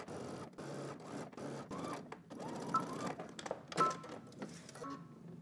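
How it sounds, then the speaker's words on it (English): A sewing machine stitches a 5/8-inch seam on a shirt in short, quick mechanical bursts separated by brief pauses, fairly quiet and close, with no voices. "We're going to stitch this down using 5/8 of an inch seam allowance."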